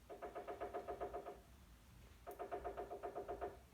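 A woodpecker hammering on an apartment building in Kaliningrad, two rapid bursts of evenly spaced knocks with a short pause between, moderately faint and without talk.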